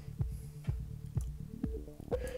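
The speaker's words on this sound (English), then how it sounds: "this is the sound of an Airwindows biquad filter" Audio run through an Airwindows biquad digital filter comes out as faint, muffled, resonant thumps that pulse steadily about twice a second with a low throbbing tone.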